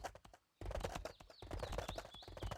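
Hooves clip-clop rapidly and continuously as horses trot in a farming video game, with a brief gap before the steady clatter resumes, along with faint high whistling tones.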